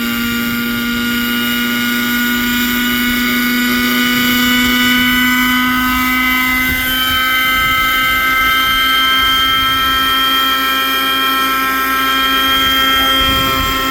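A 1980s-era German nitro RC helicopter running on castor-oil fuel, its small glow engine giving off a steady high-pitched whine with strong harmonics and a constant rotor drone throughout, loud and close with no talking.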